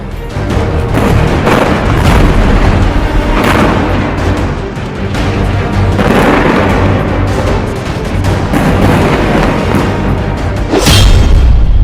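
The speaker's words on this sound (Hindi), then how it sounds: "गाजा पर इजरायल के हवाई हमले।" Israeli airstrikes on Gaza set off explosions. Loud, heavy booms and rumbling blasts keep coming, one after another, with barely any quiet between them, and a sharp bang stands out near the end.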